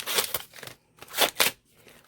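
Packaging around an ephemera pack being cut open with scissors, a few quick, close snips and crinkly rustles in two short bursts separated by a brief pause.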